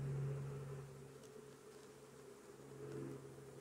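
A faint, steady buzzing hum of about half a cup of honey bees in a jar, droning continuously at low volume with slight swells.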